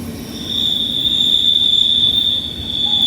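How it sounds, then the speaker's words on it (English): A train passes in the background of an outdoor backcountry campsite, its wheels giving off a sustained, loud, high-pitched squeal over a low steady rumble, with no talking. "There's a train going by in the background there."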